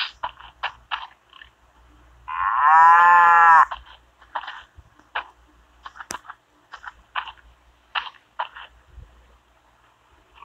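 Cows in the video game SurvivalCraft let out one loud, sustained moo lasting about a second, set among soft, scattered in-game clicks and footsteps.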